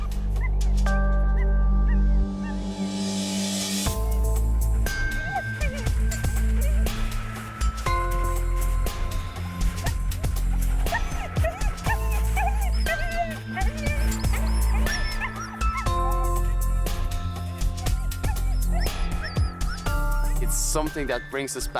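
Sami sled dogs barking, yipping and whimpering in a snowy northern landscape, a lively overlapping chorus heard up close amid other outdoor activity and some voices.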